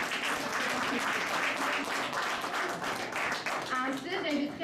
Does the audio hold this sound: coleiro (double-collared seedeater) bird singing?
no